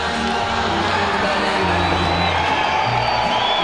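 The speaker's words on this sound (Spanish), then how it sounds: "Ve ese grito para el Pitbull." A boxing crowd roars and cheers at a fighter's ring entrance, a dense, loud, continuous wall of shouts and whoops from a large arena audience.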